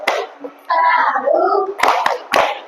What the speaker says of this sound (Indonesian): Sekarang kita lanjut ke tepuk simbol Pancasila.